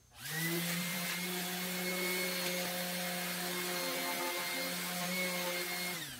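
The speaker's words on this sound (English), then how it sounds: "I'm going to do some extra sanding there" A power sander drones steadily on a door surface for several seconds, its whine holding an even pitch with faint harmonic overtones, close and fairly loud with no talking.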